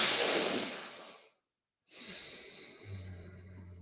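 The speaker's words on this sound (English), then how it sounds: "Breathe in." A long breath drawn in through the nose during breathwork, loud and close; it fades into a brief silence, then a softer, steady airflow returns with a low hum under it.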